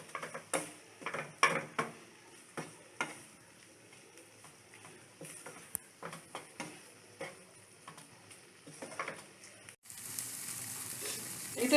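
Potol dolma stuffing with cumin and sugar fries quietly in a pan while being stirred, giving a soft sizzle under repeated light taps and scrapes. A louder hiss rises near the end.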